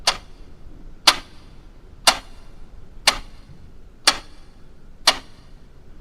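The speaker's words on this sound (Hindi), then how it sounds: "सिर्फ घड़ी के सेकंड की आवाज" Clock ticking seconds in a dark, silent room, six crisp evenly spaced ticks about one second apart, close and distinct against quiet background.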